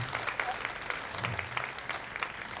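A live audience at a psychic medium show claps for teachers, a dense, steady burst of many hands applauding at moderate loudness, with some crowd noise mixed in.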